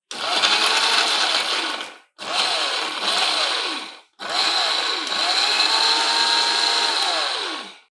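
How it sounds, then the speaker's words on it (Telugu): A mixer grinder grinds coconut, chillies, tamarind, cumin, garlic and salt in three loud, steady bursts, each dropping to silence between runs, with the motor whine pitch rising and falling as it spins up and down. "మళ్ళీ ఒకసారి గ్రైండ్ చేస్తే ఉప్పు, కారం, చింతపండు, కొబ్బరి అన్నీ కలిసి చక్కగా తయారవుతుంది"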